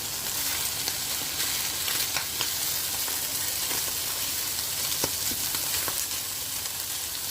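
Chicken and egg fry in a pan with a dense, even sizzle that holds steady and close throughout, dotted with small crackles and no speech.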